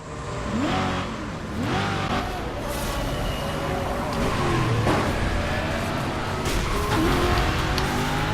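Race cars roar at speed in the racing video game Burnout Paradise Remastered, engines revving and whining continuously with rising and falling pitch sweeps throughout, loud and steady with no talking.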